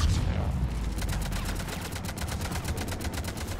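Rapid automatic gunfire from a firefight in Mass Effect 3, continuous dense bursts of shots close and loud throughout, with low booming rumble underneath.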